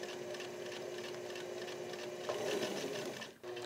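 A sewing machine runs a steady, close stitching line through welt pocket fabric on trousers, with a continuous mechanical hum that rises slightly in pitch near the end before stopping abruptly.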